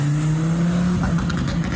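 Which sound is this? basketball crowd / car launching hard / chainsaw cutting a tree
car launching hard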